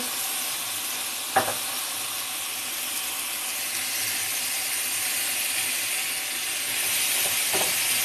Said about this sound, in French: Ensuite, on va venir bien mélanger.